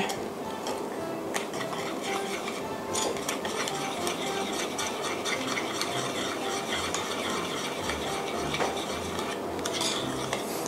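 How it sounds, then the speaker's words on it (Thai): A spoon clinks and scrapes steadily against a bowl, stirring lime juice and chili powder seasoning in a fast repeated rattling stir, close and fairly soft. "หาช้อนมาคนสักเล็กน้อยนะครับ ให้มันเข้ากันดี"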